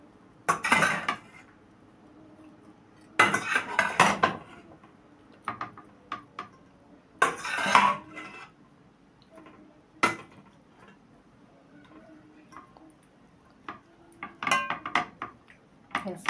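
Cooked macaroni is spooned into a butter-lined baking tray for a sausage macaroni bake, with scraping clatters of utensil and metal pan in bursts separated by quieter stretches, close by.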